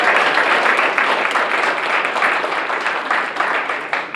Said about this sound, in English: How about a round of applause for a truly great Canadian